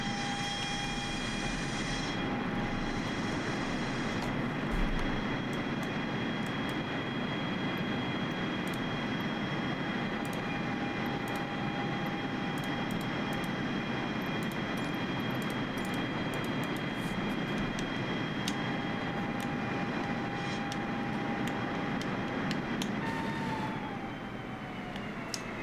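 A constant loud drone from a faulty aircraft engine in Microsoft Flight Simulator runs unbroken and close, with faint tonal whines riding on top before easing slightly near the end.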